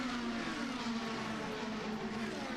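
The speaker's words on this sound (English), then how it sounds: "So cars in action once again." IndyCar race cars on track during practice for the 2023 Indianapolis 500, a steady, distant engine drone with a sustained tonal hum, fairly faint and without talk.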